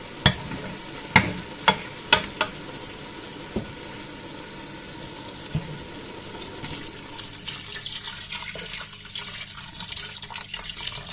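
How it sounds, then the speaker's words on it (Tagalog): Water is poured into a hot pan of oil on a home stove. A few sharp knocks and clatters come first, then a steady, moderate sizzling hiss that continues to the end. "So, lagyan ko na ito ng tubig."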